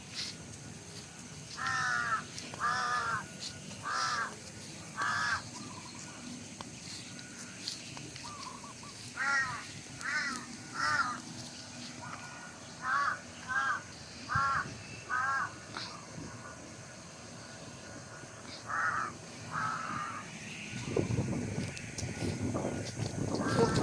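Repeated harsh crow caws in short bursts of two to four, fairly close, over a soft outdoor background; a gust of wind near the end.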